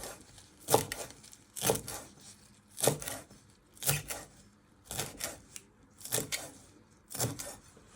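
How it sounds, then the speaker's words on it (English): A knife finely slices a bunched handful of herb stalks and leaves on a cutting board, about eight crisp, evenly spaced cuts close up with quiet pauses between them. "you just want to finely slice them"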